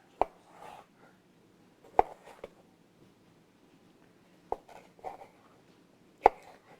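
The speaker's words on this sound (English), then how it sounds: "we'll take a piece of cucumber here, and we're wanting to cut it into very thin slices" A knife cuts a piece of cucumber into very thin slices on a board for vegan sushi, making sparse, sharp close taps spaced about two seconds apart with soft slicing noises between, quiet and without talk.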